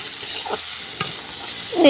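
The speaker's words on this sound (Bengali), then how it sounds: "তো আমার মশলাটা প্রায় কষানো হয়ে গেছে এখন আমি দিয়ে যাচ্ছি ভেজে রাখা কাঁকড়াগুলো" Fried crabs stirred into a sizzling tomato masala in a pan, with a soft steady sizzle, a sharp utensil scrape near the middle and a louder stir toward the end, close and unvoiced.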